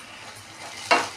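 Chopped onions frying in a pan as a spoon of ginger garlic paste goes in, a soft sizzle with one brief sharp splash of hissing near the end, no voices.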